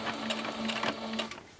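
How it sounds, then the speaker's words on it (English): Sewing machine stitching a fabric bowl cozy, a steady close whirring run with rapid needle ticks throughout, no voices. "I personally like starting to sew on the line that we already made."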